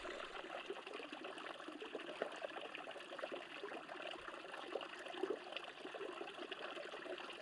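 Water at a Nevada hot spring swishes and trickles as someone wades in knee-deep, a continuous gentle splashing and gurgling with soft outdoor ambience.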